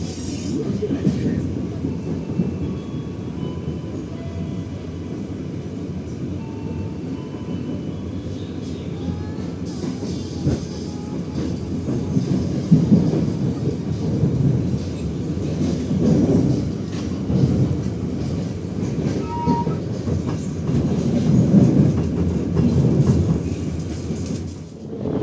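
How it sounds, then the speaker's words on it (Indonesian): The Matarmaja passenger train rumbles straight through Cirebon station in Indonesia at steady volume for a long stretch, a broad low roar with rattling that swells and fades slightly, with faint background voices. "Melintas langsung di stasiun Cirebon kereta api Matarmaja"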